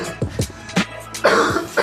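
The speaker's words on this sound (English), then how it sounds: "trying so hard to not cough into the microphone" A podcast host coughs several times in quick succession right into a close microphone, short harsh bursts with throat-clearing rasps between them and no talking.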